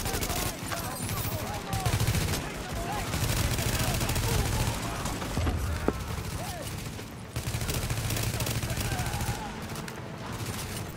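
Light machine gun fire in Tom Clancy's The Division: long, loud sustained bursts of rapid automatic shots that continue almost without pause, with other gunfire and people talking underneath.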